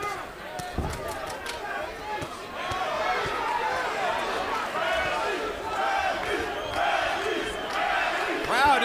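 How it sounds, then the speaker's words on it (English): Boxing arena crowd at a professional bout chants rhythmically for a fighter, a steady roar of many voices throughout with a commentator talking over it. "Crowd is beginning to chant for Tim Bradley."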